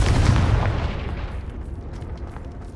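A Confringo blasting spell exploding in the Hogwarts Legacy video game, one loud, deep, close boom that rumbles and slowly fades into a crackling tail.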